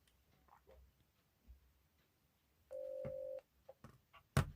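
A phone call to a friend rings out once on a mobile phone as a brief, faint electronic tone lasting under a second, amid quiet room noise and small clicks.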